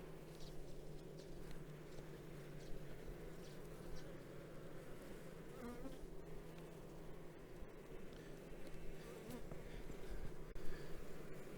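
A honeybee colony hums during a hive inspection while its frames are checked for queen cells, a dense close buzz of many bees that holds steady throughout and is heard alone.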